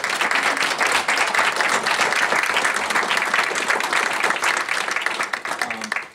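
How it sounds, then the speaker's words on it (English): An audience at a town award event in Plattsburgh claps in sustained, dense applause, loud and close, fading slightly at the end. "Can we give her a round of applause?"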